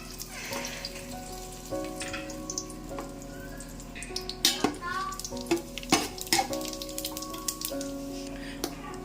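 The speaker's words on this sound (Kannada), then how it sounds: "ಇದೆಲ್ಲವನ್ನು ನಾನು ಎಣ್ಣೆ ಕಾದಿದೆ ಹಾಗಾಗಿ ಇದ್ರ ಜೊತೆ ಸೇರಿಸ್ಕೊತಾ ಇದ್ದೀನಿ" Whole spices dropped into hot oil for a Special Mutton biryani hiss and sizzle steadily, with sharp crackles and pops, metal stirring clinks, and a faint kitchen hum underneath.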